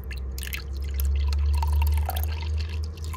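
Water trickles and splashes into a small tarantula water dish, with soft irregular dripping and pouring over a constant low air-conditioner hum.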